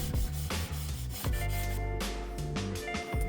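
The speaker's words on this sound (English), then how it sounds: "I then wet sanded the edges with 400 grit sandpaper" Toughened glass edges are wet-sanded with 400 grit sandpaper, producing close, rhythmic back-and-forth rubbing strokes, loud and continuous with no talking.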